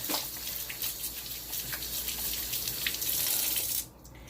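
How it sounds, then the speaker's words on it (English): Hands being washed under a running kitchen sink faucet, a steady close splashing hiss of water that continues for several seconds and then abruptly cuts off. "I'm going to wash my hands really good."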